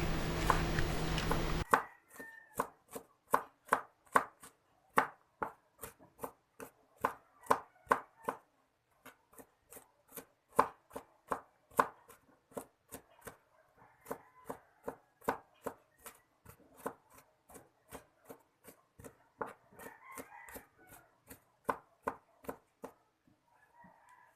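A knife chops garlic finely on a board for marinating milkfish, producing a long run of crisp, steady, evenly spaced chops heard up close after a brief burst of noise at the start.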